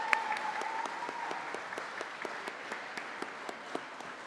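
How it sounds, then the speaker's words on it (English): An audience applauds at a Bloomsday Festival gathering with steady, dense clapping, moderately near and unbroken, with no talking over it. "Let's give them a round of applause."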